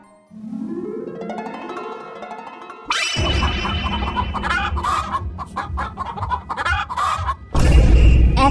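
Cartoon chickens cluck and squawk in a noisy farmyard panic, starting with a rising run of calls, then a loud, busy flurry of overlapping clucks and flapping that grows louder near the end.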